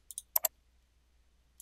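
Crisp computer mouse clicks sound in quick, sparse pairs, close and quiet, with a single click after a pause in an otherwise silent room.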